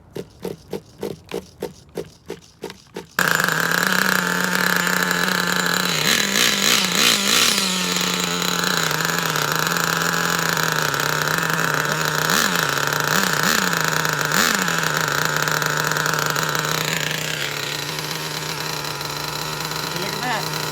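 Nitro engine of a Traxxas Jato 3.3 RC truck on a new carburetor: several quick pull-start rasps, then it catches and runs loud and close with a buzzing idle and brief revving blips, easing off near the end.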